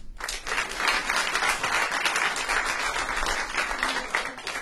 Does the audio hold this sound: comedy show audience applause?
yes